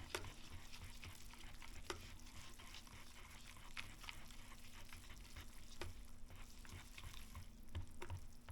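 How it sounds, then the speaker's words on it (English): Nissin spicy chicken instant noodles are stirred in a container, giving a faint, continuous soft scraping and wet swishing over a low steady hum. "And we're going to stir all this together."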